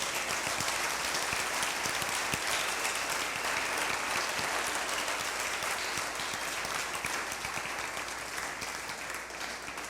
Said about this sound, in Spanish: Dale un fuerte aplauso a Él, por favor